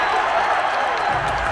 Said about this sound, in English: The crowd is cheering because the Phillies just scored a run